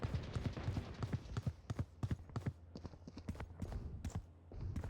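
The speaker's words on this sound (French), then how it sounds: "Je sais pas où est le gars qui fait du bruit de pas." Enemy footsteps in the shooter game Valorant, a quick run of rhythmic soft thuds at close to mid range, steady throughout and fairly quiet.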